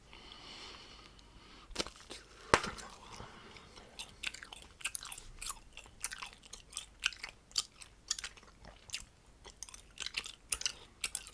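Powdered gum being chewed up close in Turkish ASMR, with wet, sticky smacks and occasional crunchy bites in an irregular rhythm, loud and intimate with no talking.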